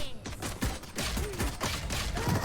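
Rapid gunfire bursts in the tactical shooter Valorant, landing headshots through a wall; several sharp shots cluster across a short span amid busy game noise.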